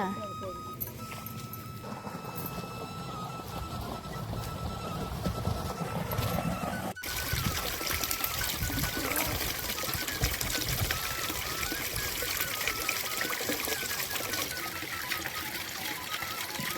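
Water gushes through a hand-opened gate into a village field channel, a steady broadband rush that swells suddenly midway and keeps pouring, with voices talking over it.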